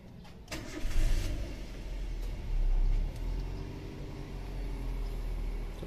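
A car engine cranks and catches after the ignition key is turned, then settles into a low, steady idle rumble with a brief rise in revs, heard alone without voices.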